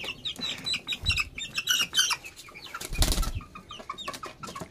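Shamo chickens with short clucks and chirps, bursts of wing flapping and scuffling, close and moderately loud with uneven rhythm.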